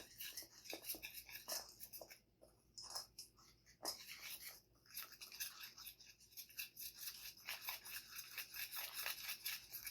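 Batter mixed in a bowl with liquids just added, close scraping and clinking of a utensil against the bowl in quick irregular strokes, fairly faint.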